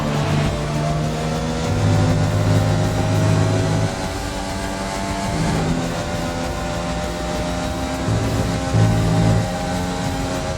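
A Formula One car in F1 2020 driving back to the pits after a Grand Prix, its engine droning steadily with gear-shift pitch steps and a loud continuous whine, no talk over it.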